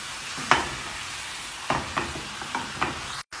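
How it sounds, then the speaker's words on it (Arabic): Fajita-spiced chicken, peppers and carrots sizzle steadily in a frying pan for Mexican chicken tacos, with several distinct scraping stir strokes cutting through the constant crackle up close. "نزيد بعد شوية ونقلب لين يستوي الفلفل والجزر والدياي"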